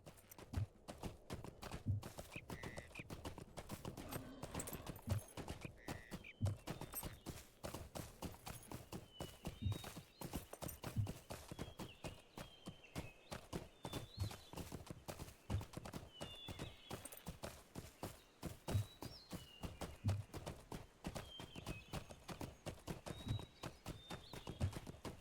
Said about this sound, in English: I do not usually have this much trouble controlling a horse